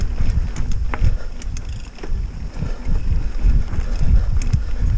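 Wind gusting off Lake Superior, rumbling and buffeting the microphone in uneven surges, loud and close, with faint scattered knocks underneath.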